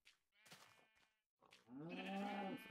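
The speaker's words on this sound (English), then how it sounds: "It's sheep!" Sheep bleating in the video game Minecraft, a couple of close, fairly loud nasal bleats, the second one long and wavering, alone with no talking.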